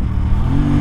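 A CFMOTO 450SR motorcycle engine blips briefly during a rev-matched downshift, a loud, continuous mid-pitched engine drone lasting under a second.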